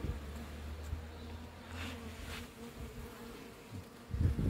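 Honeybees buzz in a steady low drone close by at an open hive, with a few louder passes and faint handling noise toward the end.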